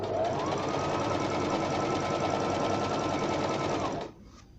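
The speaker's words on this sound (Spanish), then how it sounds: "Ahí lo estamos cosiendo en una velocidad lenta. Vamos a ir más rápido." A Brother BM 3700 sewing machine stitching steadily with a rapid, even mechanical whir that holds at a fast pace, then stops abruptly near the end.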